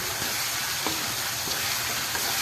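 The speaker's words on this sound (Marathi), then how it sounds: "कांदा टॅमॅटो चांगला परतून घ्यायचा." Onion and tomato sauté in a pan for a spicy egg curry, giving a steady close sizzle and frying hiss with a few soft scraping touches of a spoon, and no voices.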